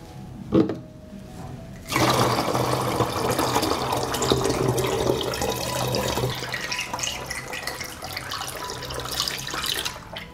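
Water runs into a 2.5-litre plastic bottle to dilute liquid fertiliser, a steady gushing stream that starts after a couple of seconds of quiet and fills the bottle until it stops near the end.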